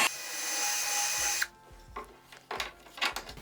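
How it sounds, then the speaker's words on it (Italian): A power drill with a fine bit bores through a round wooden dowel, whining steadily for about a second and a half, then stops, followed by a few light wooden knocks and handling clatters. "con una punta fina foriamo da parte a parte"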